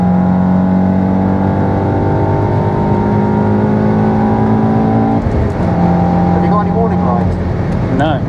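A Stage 3 Golf R at full throttle on a track, its engine droning loud and steady from inside the cabin with a juddering, uneven note, then the pitch dips and climbs again.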